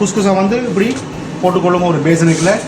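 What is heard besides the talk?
No distinct noise like a dog, phone or traffic.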